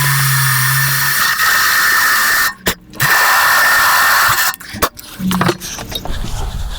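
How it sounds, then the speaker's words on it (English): A loud, steady power drill whines continuously while drilling a large hole in a 1/10 scale RC semi truck, cutting out briefly twice before grinding on again with rougher, uneven tones. "now we're drilling a rather large hole."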